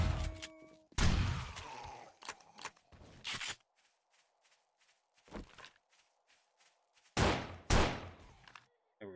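Gunfire at a zombie in 7 Days to Die on horde night, a few sharp shots and short bursts separated by quiet gaps, close and loud, with footsteps between them.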